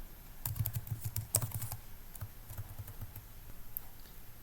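Keys tapped on a computer keyboard to type text into a Notepad file: a fast run of soft clicks, then a pause and further scattered keystrokes, quiet and close.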